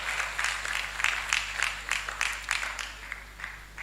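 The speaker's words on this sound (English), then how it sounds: "Please a round of applause for him." An audience at a medical laboratory science induction ceremony gives a round of applause, a steady pulsing stretch of many hands clapping at moderate distance in a large hall, with a low electrical hum underneath.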